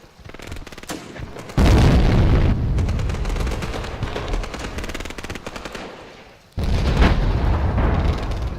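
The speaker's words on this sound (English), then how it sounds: "Artillery in the middle of my" Artillery fire and explosions in Graviteam Tactics: Mius Front, with two loud, heavy blasts that each roll into a long rumbling decay, one early and one near the end, mixed with rapid gunfire crackle.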